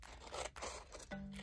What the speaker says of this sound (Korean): 가위를 가지고 색종이를 반으로 자를게요